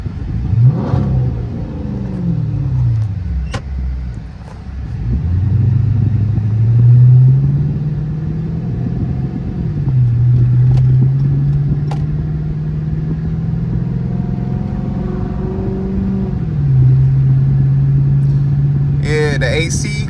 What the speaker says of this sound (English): I'm gonna do a couple of little revs.